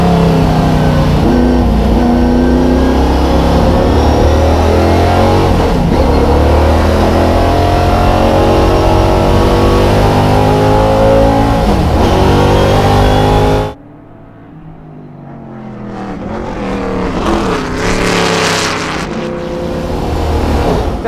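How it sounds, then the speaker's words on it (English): A Lola T70 race car with a 650bhp V8 roars loud and close under hard braking, stepping down through its big gears with sharp heel-and-toe throttle blips. The engine note cuts off abruptly partway through, leaving a quieter rising whine. "Down two gears, big old gears, so you've got to give it quite a big blip on the heel and toe"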